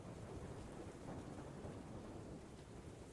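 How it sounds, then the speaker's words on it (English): Distant rolling thunder before rain sets in, a low continuous rumble with a broad hiss of storm noise, steady and unbroken with no voices. "you can hear off in the distance the rolling sound"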